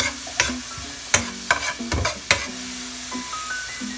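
Chili tossed into bangus sisig frying in a pan, with sharp scraping stir strokes and clatter over a low sizzle, steady throughout with no talking.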